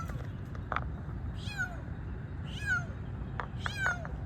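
A stray kitten on a roadside at night gives three separate high, plaintive meows, fairly faint over a low background rumble.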